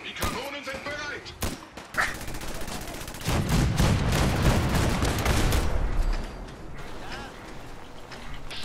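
A barrage of booming cannon fire in Fallout 4, rapid heavy blasts rolling together, then thinning out into scattered shots and mechanical clatter.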